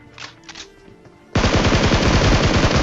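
Gunfire in the video game PUBG Mobile in rush mode erupts into a loud, sustained rapid burst of automatic shots, preceded by softer game sounds.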